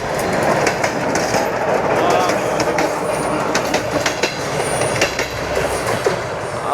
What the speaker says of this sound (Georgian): მატარებელი მოდის დავიხიოთ უკან